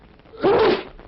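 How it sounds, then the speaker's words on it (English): A single loud human sneeze, short and explosive, preceded by a brief intake and heard alone close to the microphone. "Sneeze, handkerchief."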